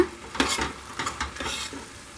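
Flattened rice stirred into hot tempering in a pan, with a spoon scraping and tossing in several uneven strokes over a soft continuous sizzle, close and fairly loud, with no voices.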